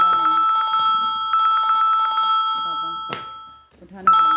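A phone rings inside a Decathlon sporting goods store, its electronic ringtone sounding in repeated bursts with a pause between them, while people talk nearby.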